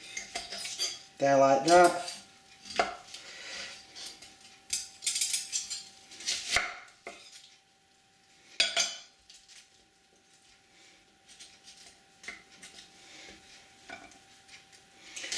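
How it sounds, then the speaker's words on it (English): A knife cutting an onion on a chopping board, with scattered knocks, scrapes and clatter of utensils separated by quiet pauses, and brief speech near the start. "reposition the onion again, find one of the gaps, cut down, find another gap, cut down"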